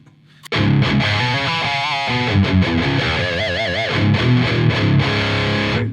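Loud, heavily distorted electric guitar through a high-gain Marshall JCM900 amp bursts in after a brief quiet moment, playing gritty metal chords and bent lead notes with a thick, saturated tone.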